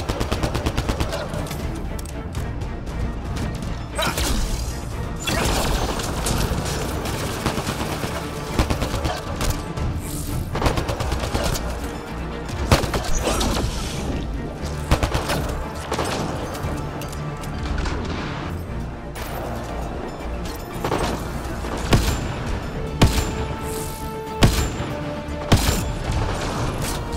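Sustained turret gunfire from a sci-fi shooter, Mass Effect: Andromeda, with dense rapid bursts, crashes and booms running loud and continuous throughout, layered with game music and effects.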